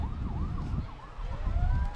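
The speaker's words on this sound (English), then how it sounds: "Oh, I hear fire trucks." Fire truck sirens wail at the Guthrie 89er Days Parade, a rising and falling tone heard from a distance over street crowd noise and low rumble.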